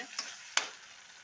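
Tomatoes sautéing in a pan for an egg gravy, a soft continuous sizzle broken by two quick scraping stirs, close and fairly quiet, with no voices.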